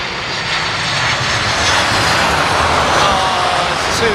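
A Ryanair jet airliner passes low over Heathrow, its loud, steady engine roar building and holding close overhead for several seconds with a broad rushing whine.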